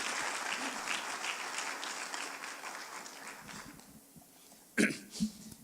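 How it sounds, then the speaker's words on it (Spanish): Congregation applause during a church sermon, a dense clatter of clapping that thins and fades over several seconds, followed by a couple of brief louder bumps near the end. "Démele una ofrenda de palmas a Él."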